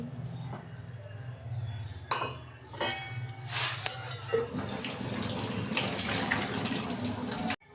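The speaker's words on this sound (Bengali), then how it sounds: "আমার ফুলকপি ভাবানো হয়ে গেছে, আমি ঢেলে ফেলছি" Water from boiled cauliflower pours out into a kitchen sink, a rushing splash with clinks of a pot, and a brief voice near the start.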